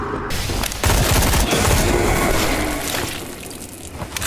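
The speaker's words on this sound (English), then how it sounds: "So many different dudes shooting at me." Heavy gunfire from many enemies in a round-based survival video game, loud dense bursts of overlapping shots and booms filling the whole stretch without pause.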